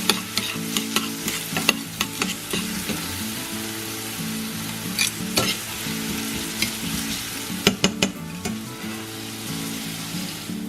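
Onions fry in a pan on the stove, giving a steady crackling sizzle with a low background hum, broken by sharp scraping and clinking as the contents are stirred now and then.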